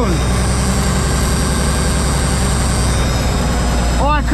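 A cold diesel truck engine runs at a steady, rough fast idle in -22°F weather, loud and close throughout with a deep continuous rumble, and a brief squeaky sound appears near the end.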